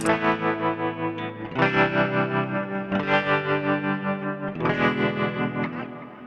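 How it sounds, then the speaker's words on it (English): An electric guitar through a bias tremolo on a Line 6 HX Effects pulses in quick, even volume throbs, with sustained chords struck several times, each ringing and wavering. "I also have a bias tremolo"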